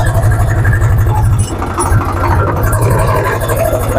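A 2017 commercial vehicle with oil brakes, in good condition, runs loud and close in second gear, its engine a steady, deep, rhythmic throb that dips briefly midway and then holds strong.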